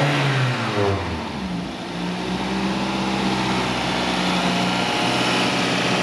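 A car fitted with a 2.0-litre engine from a sixth-generation Toyota Celica fires up and revs close by, the engine note rising and then settling into a steady, loud running drone.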